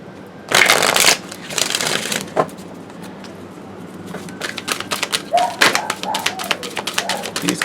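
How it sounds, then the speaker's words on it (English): A deck of tarot cards is shuffled close up, first in a dense riffling burst, then in lighter intermittent flicks and taps with a few quiet pauses. "These guys I can shuffle like normal"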